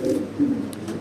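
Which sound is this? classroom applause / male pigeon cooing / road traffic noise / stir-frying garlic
male pigeon cooing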